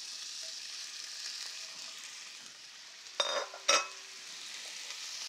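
Asparagus and artichoke hearts sizzle steadily in a pan with cod, a close, continuous hiss of frying, and two brief louder crackling bursts as more food is added.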